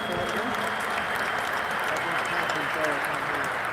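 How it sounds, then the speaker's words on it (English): Sustained applause from a conference crowd at a main stage welcome talk, a dense steady wash of clapping that keeps going without a break. "Let's clap it up for these creative individuals."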